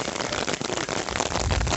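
Hailstorm pelting down outdoors near a medieval Italian castle, a dense, continuous loud clatter of countless impacts with no pauses, close and enveloping.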